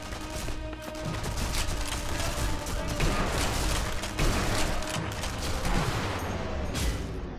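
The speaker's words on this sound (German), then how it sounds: "die Hälfte der Schüsse gehen daneben, aber Hauptsache ich töte sie" Repeated gunfire from the video game Sniper Elite V2, a dense, loud string of shots and bursts running through the whole stretch, with game ambience and effects layered beneath.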